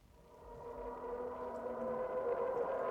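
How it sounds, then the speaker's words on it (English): A string rise sound effect pitched down an octave and heavily overdriven: a low, gritty distorted swell rising steadily in loudness over a few seconds, growling and saturated, alone without speech. "I've used Alter Boy to pitch it down an octave and then driving it really hard"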